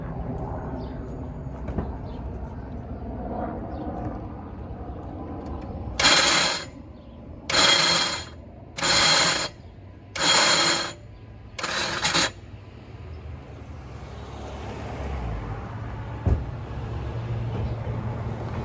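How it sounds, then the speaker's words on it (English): A loud starter motor on a Jeep Compass or Patriot with a 2.4L engine cranks in five separate bursts with short pauses between them, against a quieter mechanical background, and the engine never catches. "Let's crank the vehicle."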